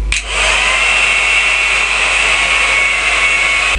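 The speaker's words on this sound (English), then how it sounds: "Double hairdryer action." A hair dryer blows loudly and steadily at close range, a constant high whooshing whir with no speech.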